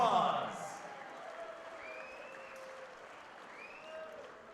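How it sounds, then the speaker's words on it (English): A crowd applauds at a boxing event on Long Island for two global champions after a ten-round bout, loud clapping bursting at first and then settling into steady, thinner applause with whistles on top. "let's show our hospitality to these two global champions with a big round of applause"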